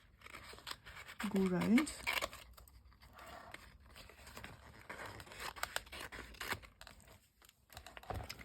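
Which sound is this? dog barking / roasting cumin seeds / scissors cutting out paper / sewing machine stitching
scissors cutting out paper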